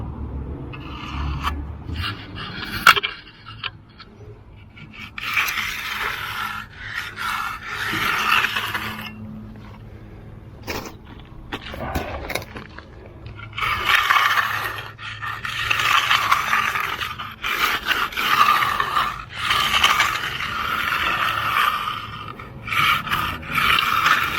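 A finishing tool scrapes cream off the surface of freshly poured concrete in long rasping passes, with pauses in between. The scraping is fairly close and carries on over roughly steady background noise, and no one speaks.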